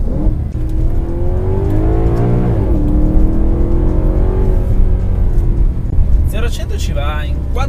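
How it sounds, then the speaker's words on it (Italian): A Maserati GranTurismo Sport's naturally aspirated V8 revs and pulls on open roads, a steady loud drone that swells and settles, with a few sharper rises near the end and an Italian voice talking over much of it. "questo meraviglioso sound del motore."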